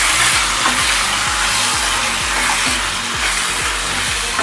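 Mutton fry being stirred with garam masala in a pan, a steady loud sizzle with repeated scraping strokes at an even rhythm throughout.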